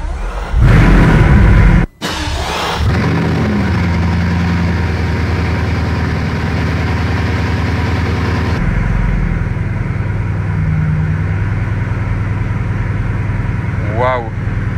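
Bugatti's W16 engine starting inside the car: a loud burst on ignition, a sudden cut, then a deep, steady idle rumble continuing, easing slightly partway, with a short high chirp near the end.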